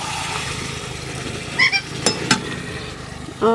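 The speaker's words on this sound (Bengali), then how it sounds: "ফ্রাইড রাইসও পুরো একদম হয়ে গেছে চলো এটা একটুখানি হলেই হয়ে যাবে দু এক মিনিট নাড়াচাড়া করব" Fried rice sizzles in a pan while it is stirred, a steady close frying hiss with a few sharp metallic clinks of the utensil against the pan.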